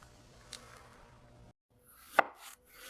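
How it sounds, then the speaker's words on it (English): A knife cuts through a boiled egg on a board, a few soft strokes followed by a sharper tap against the surface. "I slice a boiled egg."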